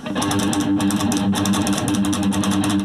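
A guitar picked steadily with the pick held too flat against the strings, producing a thin, scratchy, buzzing tone in a continuous rhythmic pattern, fairly loud and close.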